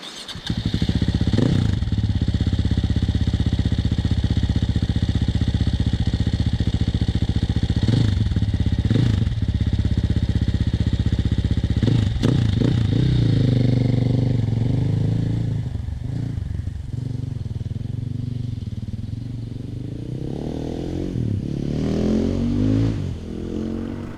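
Sherco 500 ultra-light adventure motorcycle riding along a road, its engine droning steadily and loud throughout with revs rising and falling, easing off toward the end.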